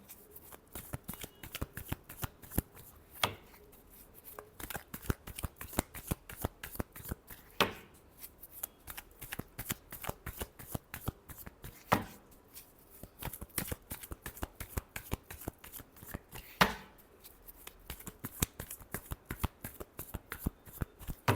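Tarot cards shuffled by hand during a weekly horoscope reading, a steady run of soft riffling snaps and slaps with a few sharper bridge-like bursts, close and fairly quiet, with no talking.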